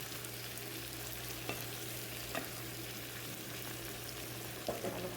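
Shrimps stir-fry in a pan with pink salt and pepper, giving a faint, steady sizzle broken by a few soft scrapes and clicks of stirring.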